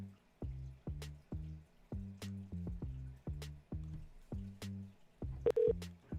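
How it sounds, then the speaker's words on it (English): Outgoing phone call ringing: a repeating series of tonal ring or dial pulses in steady rhythm, moderately loud and close, with no talking over it. "Let me just give this person a call."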